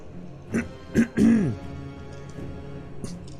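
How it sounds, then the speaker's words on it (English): A single person clears their throat with a few rough, harsh bursts near the microphone, followed by quieter faint noises in an otherwise calm room. "Let me clear my throat real good."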